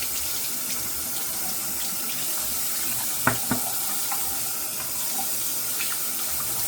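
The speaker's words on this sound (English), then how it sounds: "let's get the brush wet" Water runs steadily from a tap into a sink to wet a shaving brush, a constant hiss and splash with a couple of brief knocks partway through.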